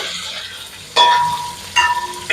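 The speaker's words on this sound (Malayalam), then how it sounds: "ഇറച്ചിക്കുള്ള ഗ്രേവിക്കുള്ള സംഭവങ്ങളാണ് വഴറ്റാൻ പോകുന്നത് ഉള്ളി വെളുത്തുള്ളി ഇഞ്ചി പച്ചമുളക് ഇത്രയാണ് ഇട്ടേക്കുന്നത്" Onion, garlic, ginger and green chili sauté in a pan as the base for a meat gravy, giving a close sizzle with two sharp stirring bursts and no voices.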